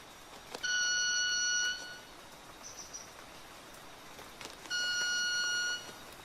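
Two separate buzzing, violin-like tones, each about a second long, come from manakin birds vibrating their wings in the Chocó forest of Colombia's wild coast, over a soft bed of background forest noise.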